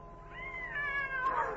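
A cat gives a single drawn-out meow that rises and then breaks into a louder, strained cry, close and clear over a quiet background.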